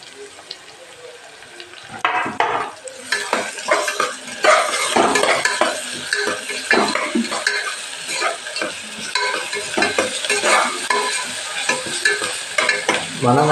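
Onions roasting in a pan for biryani give a busy, continuous frying sizzle with the repeated scrape of a spoon stirring, close and fairly loud after a quieter opening.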